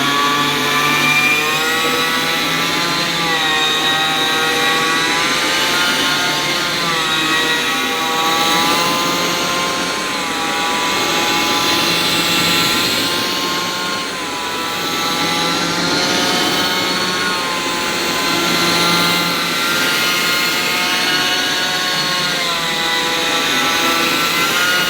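A vintage 1973 Hoover 5464 shampoo polisher runs across carpet, its motor giving a loud, steady whine with rising and falling tones that waver as the machine is pushed back and forth, running alone without speech throughout.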